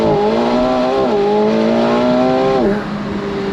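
McLaren 750S Spider supercar (2024) accelerating hard on throttle, a loud, close engine note climbing steadily in pitch with one brief dip near the end as it shifts, then pulling on again.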